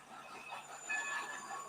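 A steam train rolls into Saint Denis in the game Red Dead Redemption 2, with faint rail rumble, wheel squeal and thin high whistle-like tones, all quiet and distant.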